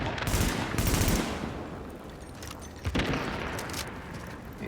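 Bursts of automatic gunfire from the video game The Division, loud rapid volleys at the start and again near the end, with quieter crackling shots between.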